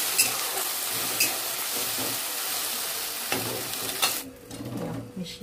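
Chicken being stirred and mixed in a sizzling pan, a steady hiss of frying with scraping stirs, the sizzle dropping away near the end.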